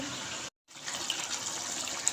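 Water drained from a bowl of soaked, cut potatoes, a steady close splashing pour that briefly stops, then resumes and continues evenly.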